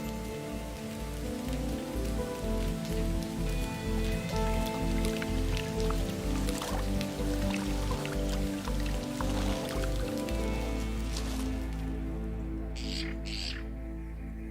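Monsoon rain falls in the Saguaro desert, a steady dense patter of drops on surfaces with rhythmic low thumps through most of the stretch, ending in a smoother wash with a couple of brief bright bursts near the end.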